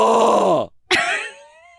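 A man imitates a snoring sleeper with his voice, a drawn-out raspy groan followed by a short pause and a second rising snort that trails off.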